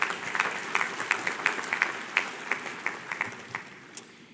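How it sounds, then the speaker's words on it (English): A modest audience at an event gives a short round of applause, with scattered individual claps standing out clearly before the applause tapers off. "Let's give these folks a nice round of applause"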